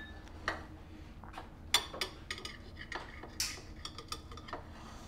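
Knife cutting through a light, airy cake on a plate, with a few soft scattered clinks and taps of cutlery against the dish, fairly quiet and close.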